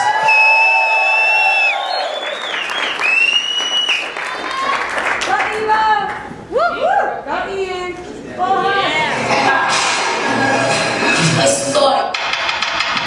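A crowd at the Afro-Latin Vegas 2014 dance event cheers and whoops for an LA Kizomba team, with rising yells, whistles and scattered clapping in waves while a voice speaks through the din.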